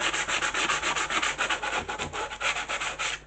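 Hand sanding of wood to distress and wear back a finish in a restoration workshop, a steady rhythmic scrubbing of quick back-and-forth strokes, close and loud with no voices.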